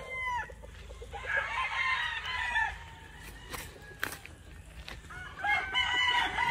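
Chickens on a farm, including a gray straight-comb rooster, crow and cluck close by, with repeated calls over a quiet background and a few sharp knocks.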